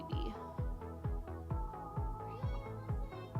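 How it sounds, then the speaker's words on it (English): A pet cat meows over and over in a steady rhythm, about seven soft, evenly spaced cries close by in a quiet room. "Oh, little baby cat."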